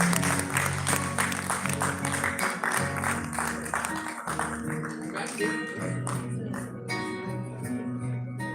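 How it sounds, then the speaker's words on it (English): Audience applause at a DAV Public School function in Sainik Colony, Faridabad: sustained, fairly close clapping from a crowd, mixed with steady tonal background sound. "Please give him a huge round of applause."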